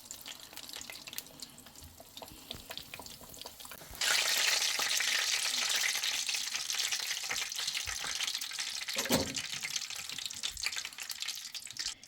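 Belyashi meat pies frying in oil, the sizzle jumping sharply louder as a pie goes into the pan partway through, then a sustained bright crackle with a spatula knock near the end.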